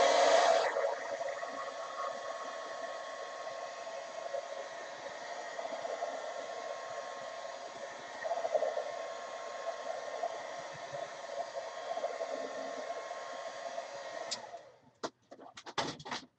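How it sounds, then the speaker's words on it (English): Continuous airy whir of a heat gun drying a gelli print journal page made with black gesso and Dylusions ink spray, steady and moderate for about fourteen seconds before cutting off, followed by a few clicks and handling noises. "Heat gun"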